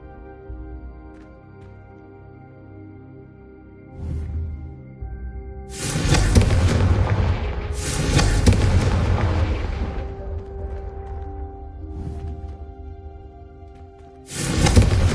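Fire-spell blasts cast in the Hogwarts Legacy video game: a few loud, booming bursts at intervals over a background music bed, with no talking.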